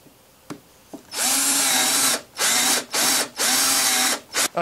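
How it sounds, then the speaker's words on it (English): A power drill bores clamp holes into a wooden table saw crosscut sled, a loud whirring whine in four or five bursts of about a second each, separated by short pauses, after a couple of faint taps. "we're ready to drill the clamp holes."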